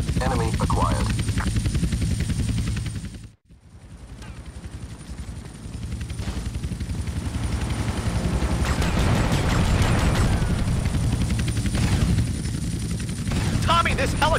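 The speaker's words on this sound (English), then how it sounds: "this helicopter is going to kill us!" An attack helicopter in the video game GTA Vice City roars steadily with rotor thump under bursts of machine-gun fire, loud and close, while game characters speak over the din.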